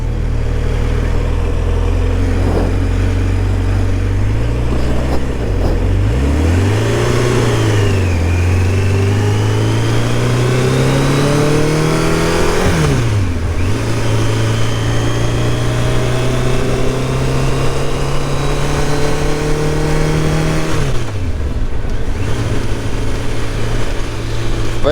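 A Kawasaki Concours motorcycle engine drones continuously while riding in third gear, its loud, close pitch rising and falling as the rider rolls on and off the throttle, with no talking.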